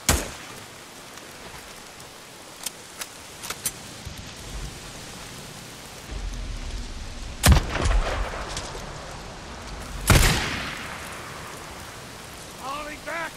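Gunfire in Days Gone against a crowd of enemies, heard over steady rain: scattered light pops early on, then two loud heavy shots several seconds apart, with brief shouting from a voice near the end.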